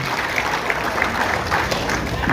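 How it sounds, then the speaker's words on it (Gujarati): A crowd at a gathering honoring a groom applauds together, continuous clapping at moderate loudness with a murmur of voices mixed in. "ખૂબ સરસ તાળીના ગણગણાટથી એમને પણ વધાવીએ"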